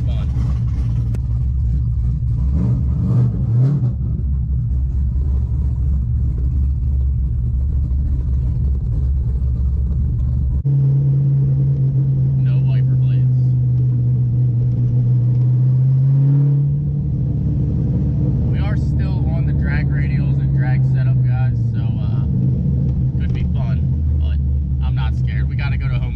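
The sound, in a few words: Chevrolet Corvette C5 driving in the rain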